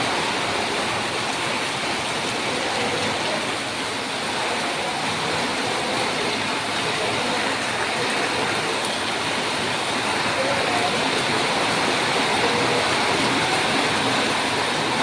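Heavy monsoon rain driven by strong wind roars as a dense, unbroken wash of noise for the whole stretch, loud and close, with water pouring and no clear voices on top.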